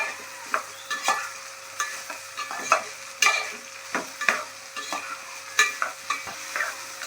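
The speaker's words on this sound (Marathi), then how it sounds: "ती भेंडी आपण ॲड करतो त्याच्यामध्ये त्यानंतर त्याला चांगलं तसं मिक्स करून घ्यायचं" Roasted okra being stirred into a hot pan of oil for a village-style okra dish, with sharp scraping spoon strokes over a light sizzle, close and irregular, and no voices.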